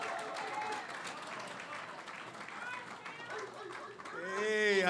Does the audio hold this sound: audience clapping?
yes